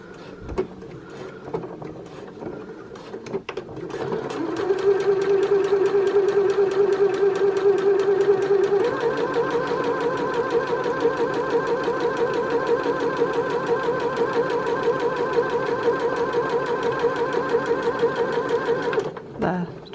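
Sewing machine stitching the long edge of a fabric face mask, a steady, close mechanical whir with a fast, even stitching rhythm that runs continuously for most of the stretch and then stops abruptly.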